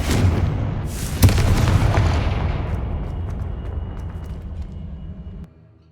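A Confringo fire spell blast from the Hogwarts Legacy video game: one sharp booming explosion, loud and close, followed by a long rumbling, crackling tail that fades out over several seconds, with no talking.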